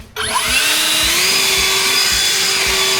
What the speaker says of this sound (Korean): 엔진은 냄새도 많이 나고 엄청 시끄럽네